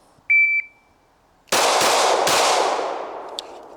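Electronic shot timer beeps, then rapid Glock pistol fire, three or four sharp close shots in quick succession ringing out outdoors with a long decaying echo.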